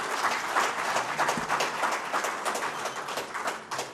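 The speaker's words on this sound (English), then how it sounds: "Let's give them a round of applause for coming in." A room of people applauding the panelists at a FEMA flood insurance forum, steady and fairly dense clapping that carries on for the whole four seconds at moderate level.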